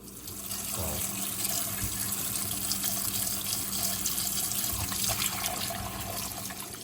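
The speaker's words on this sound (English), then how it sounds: "Now we're going to wash it with some fresh lemon." Fresh shrimp are rinsed with lemon under running water, a steady splashing tap stream into a sink with small sloshes and drips throughout, close by and without talk.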